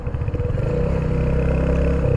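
Royal Enfield Hunter 350 motorcycle engine thumping close by, a loud, deep, steady rumble with a slight rise in revs and no talking.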